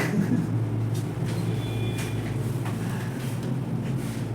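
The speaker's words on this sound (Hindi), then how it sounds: "देखो अभी भी गाड़ी का शोर शराबा कंटिन्यू रहता है" Road traffic rumbles steadily at night, a continuous low hum of passing vehicles with faint higher whines, no distinct pauses.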